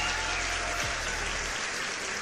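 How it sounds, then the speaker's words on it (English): A short burst of applause during a livestream, dense even clapping at moderate volume over a low steady hum, with no talk. "Let's give Bored PC Guy a round of applause."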